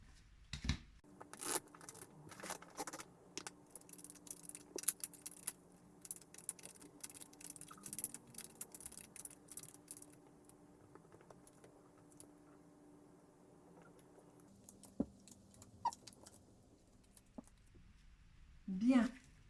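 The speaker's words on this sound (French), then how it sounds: "je vais prendre le temps de bien mélanger mon jeu" A deck of oracle cards is shuffled by hand, giving crisp rustling slaps and papery clicks that are busiest early on, then thin out to sparse taps, with a soft thump near the end.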